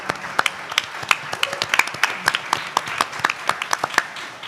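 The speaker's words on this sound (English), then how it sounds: "I would like for us to give them all a round of applause" A small audience at a panel on the struggle for democracy claps for the speakers, with distinct, sharp, uneven handclaps heard close and in the clear.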